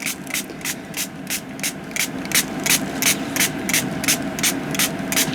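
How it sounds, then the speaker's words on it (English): A spray bottle sprays paint in a rapid series of short hissing bursts, about a dozen in steady rhythm, over a constant mechanical background hum. "I'm going to spray this real good"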